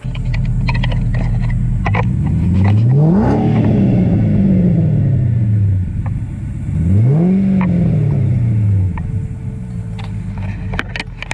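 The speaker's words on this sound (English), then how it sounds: "You want to do a little bit of a rev in it" A Ford Falcon XR8 V8 engine revs up twice, each rise climbing sharply in pitch and falling back to idle, loud and close with a steady rumble between.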